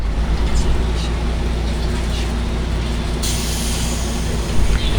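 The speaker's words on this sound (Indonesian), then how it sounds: "Suara khas pintu otomatis dan gemuruh rel menemani perjalanan pendek menuju stasiun Juanda." Loud, steady rumble of a KRL commuter train on the rails heading toward Juanda station, with a hissing burst midway that fits the automatic doors, all continuous and close.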